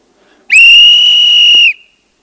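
A single loud, shrill whistle blast held steadily for just over a second, then abruptly stopping.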